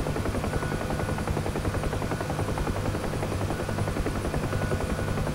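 A helicopter in the DCS combat flight simulator flies with a loud, steady, rapid rotor thump and a constant turbine whine that runs unbroken throughout, with no talking.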